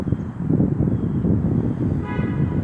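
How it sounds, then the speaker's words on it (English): A vehicle horn honks briefly near the end, rising over a continuous low rumble of passing street traffic. "Honking."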